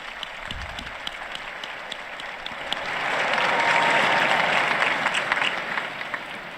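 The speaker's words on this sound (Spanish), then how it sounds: "Un aplauso para el nuevo beato" A crowd at a papal general audience applauds the newly beatified, starting as a modest spread of claps and swelling after a few seconds into a full, sustained ovation that holds steady to the end, with no speech over it.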